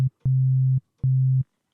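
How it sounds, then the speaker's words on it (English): An FM synthesizer's basic sine-wave initialization patch, set to one voice, plays a plain pure tone in three separate held notes, a short one followed by two longer sustained ones, with silence between them. "Okay, so that's a very basic sine wave."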